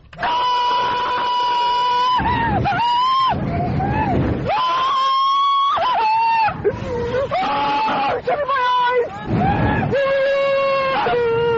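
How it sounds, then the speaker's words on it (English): A woman on a roller coaster screams loudly and continuously, a long string of shrill, wavering wails broken by brief gasps, with no other sound around them. "here's Roller Coaster Girl, just isolated, just the scream part"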